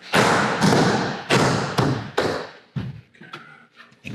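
Urethane panel pressed against the side of a Sprinter van during a dry fit, giving several heavy hollow thumps and taps in quick succession, close and alone, trailing into lighter knocks.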